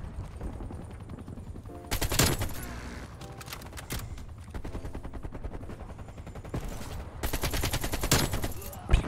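AK-47 fire in the Call of Duty Cold War multiplayer video game comes in several loud automatic bursts between quieter game sounds and light talk.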